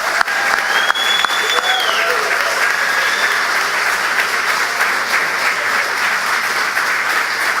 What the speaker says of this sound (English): I ask that you give all of our tenure candidates just one more round of applause